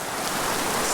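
Steady rain falls outdoors beside a stream during a fly-fishing outing, a dense, even hiss filling the air with no breaks or voices.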